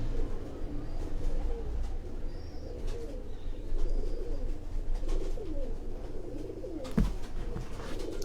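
Pigeons in a loft keep up a low, throaty cooing near at hand, soft repeated calls over a rumbling background, with one sharp knock near the end.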